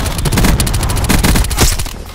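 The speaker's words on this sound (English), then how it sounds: "Cluster grenade." Cluster grenade going off in Call of Duty: Black Ops IV multiplayer team deathmatch, a loud close rapid string of bursts and booms crackling in quick succession, fading at the end.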